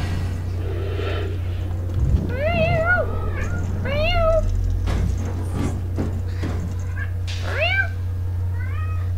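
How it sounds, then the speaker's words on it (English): A cat meows several times in drawn-out, wavering calls over a constant low hum, near and fairly loud, spaced a few seconds apart. "My cat."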